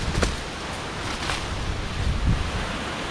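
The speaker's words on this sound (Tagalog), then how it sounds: "Lakas ng hangin dito no? Lakas ng hangin." Strong wind blowing outdoors near old wartime caves and a cemetery, a steady broadband rush with gusty buffeting against the microphone and occasional low thumps, with no voices.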